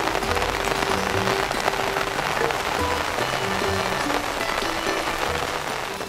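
Heavy monsoon rain pours down steadily in Porbandar, a dense, constant roar of drops hitting surfaces throughout, loud and unbroken, with no voices.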